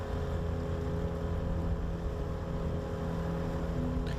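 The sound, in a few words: boat engine idling back up for another trolling pass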